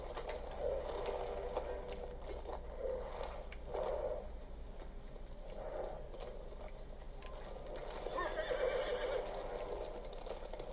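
A horse whinnies a few times in the video game Ghost of Tsushima, amid a faint outdoor ambience with soft hoof clops and cooing birds in the background, at a modest distance.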